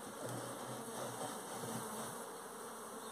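Apis honey bees swarming in a hive, a dense continuous buzzing drone of many wings, close and steady, with no voices.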